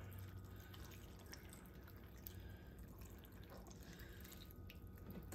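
Whole milk poured over chopped bread for a bread pudding, a soft continuous liquid trickle and patter running steadily throughout, fairly quiet and close, with no talking.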